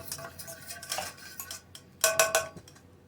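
A scraper spatula stirs thick, wet eggnog in a punch bowl at a Christmas campsite, making short bursts of scraping and clinking against the bowl's sides in an uneven rhythm, close and fairly quiet.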